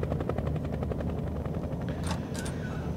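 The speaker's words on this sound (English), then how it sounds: "What is that helicopter doing?" A helicopter in the video game Nightmare House 2 thuds with a rapid, even rotor chop, fairly faint and steady, joined near the end by a couple of sharp high bursts.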